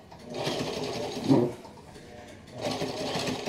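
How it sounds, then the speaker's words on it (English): A sewing machine stitches fabric pockets in two short, steady bursts of rapid mechanical whirring, fairly quiet and close, with a brief pause between runs. "So Joe has to sew here and sew there"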